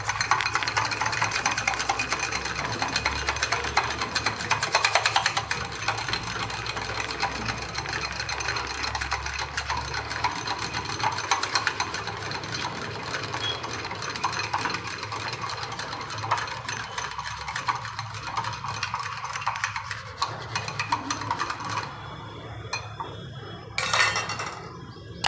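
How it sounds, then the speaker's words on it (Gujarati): A spoon whisks yogurt (curd) with sugar in a bowl, giving a steady, continuous scraping with light clinks that runs without pause and without talk. "હવે એને પહેલાં ફેટી લઈશું।"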